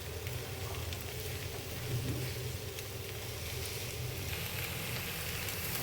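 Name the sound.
okra frying in a pan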